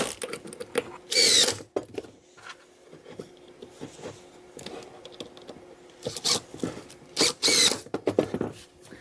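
Power drill driving 2-inch truss head screws into a wooden lathe jig: several short bursts of loud high whine, each lasting about half a second, separated by quieter shuffling and handling noises.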